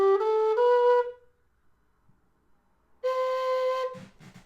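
A tin whistle sounds two clear sustained notes, one played with an alternate fingering covering holes 2, 3, 4 and 6, separated by a short silence, close and bright with a brief slide at the start.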